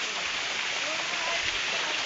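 A waterfall at the foot of Kalapata hill pours a continuous broad rushing roar, with a voice talking faintly under it.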